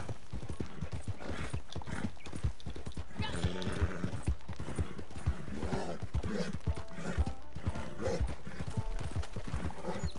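Horse hooves clip-clopping in the video game Red Dead Redemption Online: a steady, rhythmic stream of close hoofbeats with brief snorts or creaks, and a voice talking now and then over the gait.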